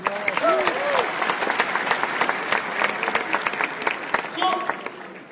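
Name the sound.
audience applause at event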